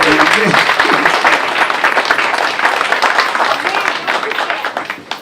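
Audience applause at a Latino Ex-Offender banquet fills the room, dense and steady clapping with voices mixed in and cheering, gradually thinning toward the end.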